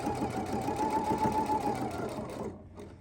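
A Husqvarna Viking sewing machine stitching along an existing stitch line runs in a steady, even whirr for a few seconds, then stops abruptly, heard close and alone.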